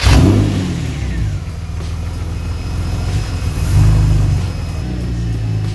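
A Porsche engine runs close by after an airflow meter repair, settling from an initial rev into a rough idle and then swelling in one short rev around the middle, with no talking.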